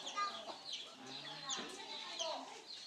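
Chickens cluck in short bursts close by, with people chatting over them.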